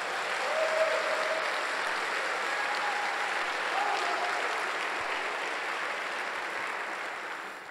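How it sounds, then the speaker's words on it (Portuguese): Congregation applauding during a Sunday church service, a steady wash of clapping that holds evenly for several seconds at moderate distance, then fades slightly at the end. "Pode dar um aplauso ao Senhor."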